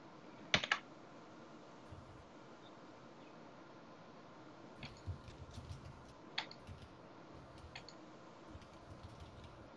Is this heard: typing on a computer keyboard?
yes